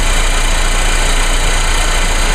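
A small car engine of about 2.1 liters idling steadily, a constant loud mechanical drone with a high whine above it and no speech.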